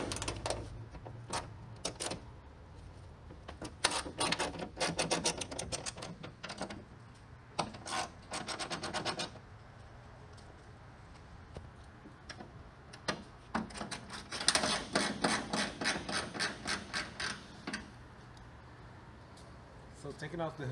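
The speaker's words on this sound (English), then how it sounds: "Actually, it's a 12 millimeter screw socket wrench. We're just gonna loosen these up." A 12 mm socket wrench loosens the hood screws on a 2007-2011 Toyota Camry, giving bursts of rapid ratcheting clicks in quick rhythmic runs with pauses between them, close up.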